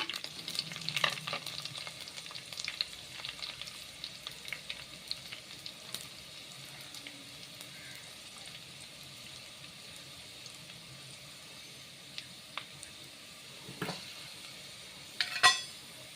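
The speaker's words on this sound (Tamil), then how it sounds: "வெங்காயம் நன்கு வதங்கிக் கொண்டிருக்கிறது" Onions fry and sauté in a pan for a village-style curry with a soft, steady sizzle, broken by occasional scrapes and clinks of stirring, with a sharper clatter near the end.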